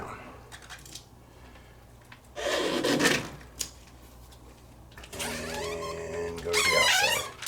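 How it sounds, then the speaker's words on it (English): A squeegee drags across window tint film on glass in a few separate strokes, each a loud rubbing squeak and swish, with quieter gaps between them. "then you take your squeegee, starting in the middle, go to the outside"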